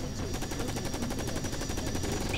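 Rapid automatic gunfire in a video game, a dense steady stream of shots at close range running throughout without pause.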